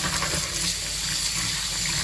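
Warm tap water gushes into a kitchen sink with detergent, a loud steady rushing fill that runs unbroken and close by.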